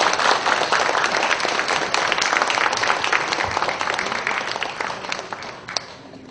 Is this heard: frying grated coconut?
no